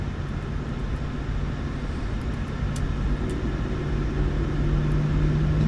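An airliner in Microsoft Flight Simulator 2024 rolling down the runway for takeoff, a steady loud engine roar and rumble holding constant throughout with faint clicks above it.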